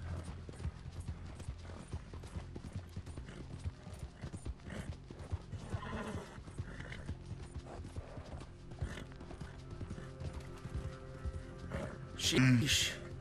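Steady hoofbeats from a galloping horse in Red Dead Redemption 2, rhythmic clip-clop with faint mechanical creaks, moderately quiet, with a louder burst near the end.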